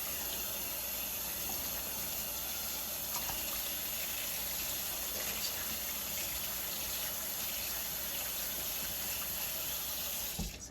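Distilled water pours steadily over a washed cross stitch piece in a sink, a continuous close splashing hiss that holds unbroken throughout.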